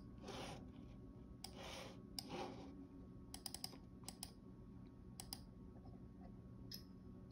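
Faint, irregular clicking on an iMac computer, with scattered soft clicks and taps in short bursts against quiet room tone.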